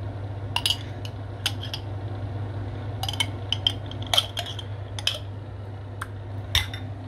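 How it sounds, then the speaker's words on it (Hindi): A spoon mixes cream and cheese together in a bowl for a kunafa filling, tapping and clinking against the sides in scattered bright metallic chinks over a low steady hum. "और इसे अच्छे तरीके से आपने मिक्स करना है।"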